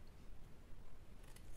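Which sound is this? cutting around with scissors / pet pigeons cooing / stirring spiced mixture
cutting around with scissors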